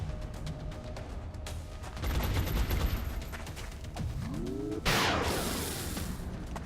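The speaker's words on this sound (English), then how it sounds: "Suppressing fire." Suppressing gunfire in the turn-based strategy game XCOM: Long War, a dense sustained rattle of automatic shots over a constant background bed, swelling in the middle and ending in a loud burst with a sweeping whoosh.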